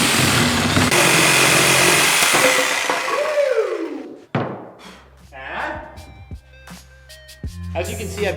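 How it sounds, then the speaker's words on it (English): A belt sander shaping the edges of a huge electric skateboard roars loudly, then winds down with a falling whine, followed by scattered thumps and knocks of handling. "I've got the belt sander out, honing in on these nice smooth edges right here."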